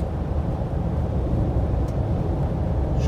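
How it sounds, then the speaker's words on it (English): A 2005 Nissan Armada accelerating on a freeway at about three-quarter throttle, a steady, dense engine and road roar that holds even and loud throughout with no voices. "little freeway run of the '05 Armada. About 3/4 throttle."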